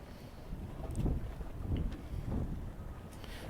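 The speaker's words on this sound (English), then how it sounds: "So very windy out here today." Steady wind gusting across the open outdoor walkway of Chicago's Navy Pier, a loud, close rushing roar buffeting the microphone that swells and eases in waves, with no voices.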